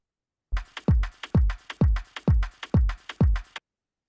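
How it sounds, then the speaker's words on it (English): A short looped beat: seven punchy, booming kick-like hits at a steady tempo, repeating evenly before stopping abruptly, with nothing else underneath. "so if I just loop a beat"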